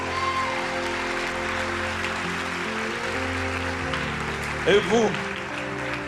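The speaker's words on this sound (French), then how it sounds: "Uma linda salva de palmas." A church congregation claps during a charismatic service, the applause running as a steady wash under a speaking voice and a sustained tone, with a brief louder burst near the end.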